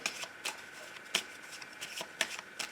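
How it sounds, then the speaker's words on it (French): Tarot de Marseille cards are shuffled by hand at close range, quiet riffling bursts repeating roughly every half second with soft rustling in between. "je vais commencer mon tirage avec le tarot de Marseille pour prendre des cartes pour vous"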